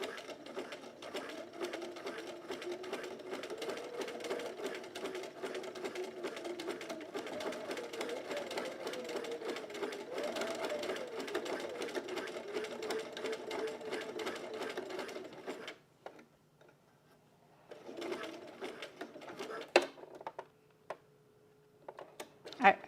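A domestic sewing machine with a buttonhole foot stitching through thick fabric, a fast steady whirring hum for about fifteen seconds, then it stops, followed by a few short bursts and clicks, close up.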